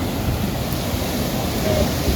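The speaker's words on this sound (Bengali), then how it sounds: "আপনারা দেখতে পাচ্ছেন যে কি পরিমাণ পানির উত্তাল ঢেউ" Rough sea surf at Cox's Bazar beach makes a continuous, loud, wind-buffeted roar of churning waves, dense and unbroken throughout, without any voices.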